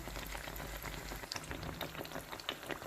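Pişi dough frying in very hot oil, a steady dense sizzle with fine popping and crackling throughout, close and fairly soft.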